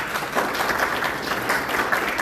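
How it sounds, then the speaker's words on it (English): An audience at an education symposium applauds steadily, a dense, even wash of many hands clapping that keeps up without a break from start to finish. "That deserves a round of applause."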